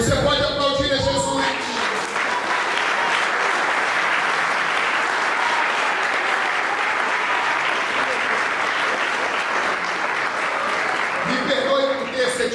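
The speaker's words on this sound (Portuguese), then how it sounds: "Você pode aplaudir a Jesus." Loud, sustained applause fills a church service, following a Portuguese-language sermon, with a speaking voice at the start and end of the burst.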